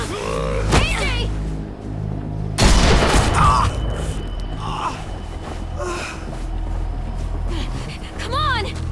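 Gunfire in The Walking Dead video game, a sudden loud burst of shots erupting amid tense game audio, with voices shouting and gasping around it.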